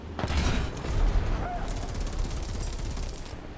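Heavy automatic gunfire and booming weapon fire in War Thunder around a Strv 122B tank, loud sustained rattling bursts with mechanical clatter.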